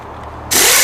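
A power tool spins a 19mm socket in reverse to back out the bottom alternator bolt on a Maserati, starting abruptly as a loud, steady, close-up whir that runs to the end after a quiet moment.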